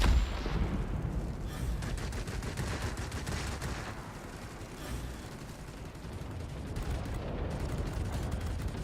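Aircraft guns in World of Warplanes strafing soft ground targets, with repeated bursts of rapid rattling fire over a steady engine drone, loud and close throughout with brief pauses between volleys.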